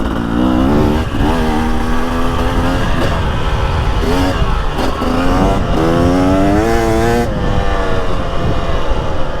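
A 2023 two-stroke dirt bike, a Husky TX300 or KTM 250XCW, rips along an off-road trail with loud, continuous engine drone, rising and falling revs and a few brief throttle chops, close to the rider.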